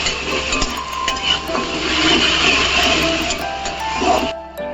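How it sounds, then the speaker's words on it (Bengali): Ginger and garlic are stirred in a hot wok with a continuous sizzle and intermittent metallic scraping, close and fairly loud, stopping abruptly near the end. "এবার দেয়া হচ্ছে আদা, তারপরে আসবে রসুন, দিয়ে একটু ভালো করে এটাকে নেড়ে নিতে হবে।"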